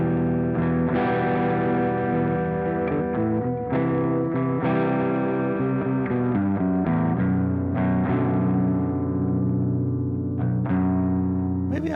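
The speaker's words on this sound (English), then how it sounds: "It's got a lot of the long delay, some chorus, and some reverb on it. It's more ambient sound." A clean electric guitar through a Soldano amp plays a sustained, ambient line with long delay, chorus and reverb, notes ringing and overlapping continuously at a steady moderate level.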